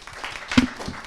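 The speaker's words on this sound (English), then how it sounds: "please give a round of applause to our speakers here." A conference audience breaks into a short burst of applause for the panel speakers at the close of a discussion session, with a soft broadband clatter of many hands.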